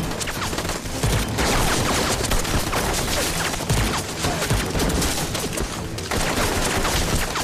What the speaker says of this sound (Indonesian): Aksi saling tembak-menembak terjadi.